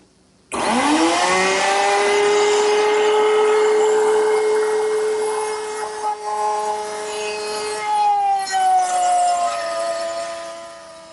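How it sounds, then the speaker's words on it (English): Loud, close router whine cutting a groove in wood at half depth on a first pass, the motor spinning up at once and holding a steady pitch that dips and roughens as the bit bites along the cut. "Now I'm not going to cut the whole depth at once, just about half in the first pass"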